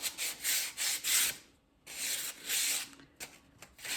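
Rough wooden edges are rubbed by hand with 240-grit sandpaper, making rapid, close, scratchy strokes in quick bursts. One brief pause comes midway, then the strokes resume with no talking.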